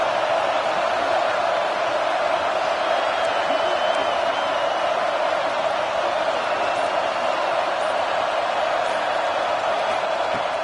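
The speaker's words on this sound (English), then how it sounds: "listen to this crowd noise. This stadium is vibrating." Stadium crowd noise from the football video game Madden on PS5: a steady, loud, vibrating roar of a packed stadium crowd, continuous and unbroken throughout, with no talk over it.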